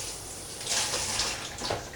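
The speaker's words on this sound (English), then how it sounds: "just give them a quick rinse on the outside" Tap water runs steadily over vegetables being rinsed at a kitchen sink while cooking lunch, a close, continuous hiss and splash with slight swells in flow.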